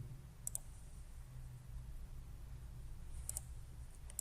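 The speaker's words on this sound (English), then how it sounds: "Click on edit again." Two pairs of quick computer mouse clicks, faint and close, separated by a few seconds over a low steady room hum, with no speech.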